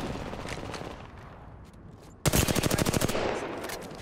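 Missiles fire in Apex Legends as a sudden loud barrage of rapid, evenly spaced blasts, following quieter background game noise and fading slightly toward the end.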